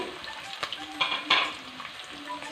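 Chopped ginger and garlic sputter in a pan of oil for a sweet lemon pickle, a soft sizzle broken by a few spoon scrapes and stirring clatters.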